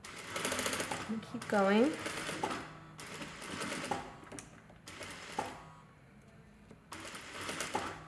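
Sewing machine running a quarter-inch seam along a zippered pillow cover, in bursts of rapid stitching broken by brief pauses, close and moderately loud, with a person talking over it.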